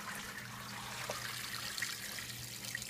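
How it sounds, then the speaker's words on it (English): Water poured slowly from a container over beef or soup bones in a stockpot for keto bone broth, a steady close trickling splash that runs without break and holds an even level. "And we're going to pour the water in."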